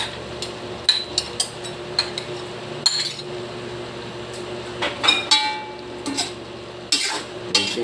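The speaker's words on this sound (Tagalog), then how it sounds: "ilagay na natin itong carrots at sayote" Carrots and chayote go into a pan for a Filipino vegetable sauté, giving sparse clinks and knocks of utensil on metal spread over several seconds, fairly close against a low steady background hum.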